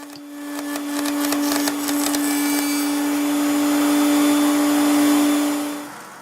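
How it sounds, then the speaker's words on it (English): A router table cuts a rabbet along the bottom edge of a walnut jewelry box tray, giving a loud, steady high-pitched whine with rough cutting noise that holds for about six seconds before spinning down. "I went to the router table to rabbet the bottom out so I could put the bottom piece in"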